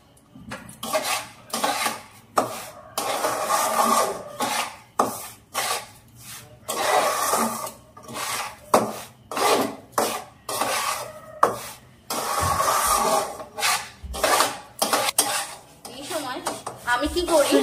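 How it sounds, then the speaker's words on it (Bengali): Semolina fries in a pan for suji halwa, stirred with repeated rhythmic scraping strokes against the pan in close, loud bursts separated by brief pauses, with no voices. "এই সুজিটা ভাজতেই যা একটু টাইম লাগে"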